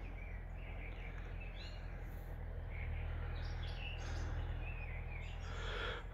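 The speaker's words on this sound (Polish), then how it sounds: "Ptaki śpiewają, wiosna ruszyła pełną parą." Several birds chirp and sing in spring in the distance over a steady low outdoor rumble, with occasional brighter calls rising above the background.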